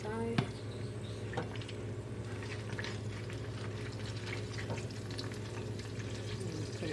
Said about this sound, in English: fried egg, which has been already here frying.